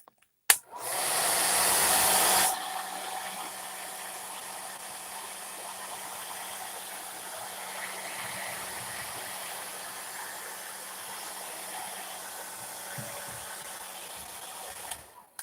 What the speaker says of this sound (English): here comes the hair dryer